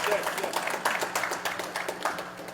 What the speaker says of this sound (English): I see Ed is applauding as first